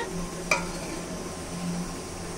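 Fried fish pieces dropped into a pan of sizzling spice mix for a Bengali macher patudi with pui saag, giving one sharp clink over a steady, close frying sizzle.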